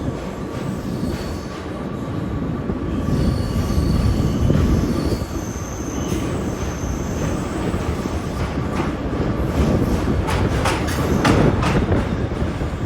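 The Bibhuti Express runs on rails between Howrah and Banaras, a steady loud rumble with rattling wagons, faint squealing wheel tones and clicking joints, heard from on board without talk.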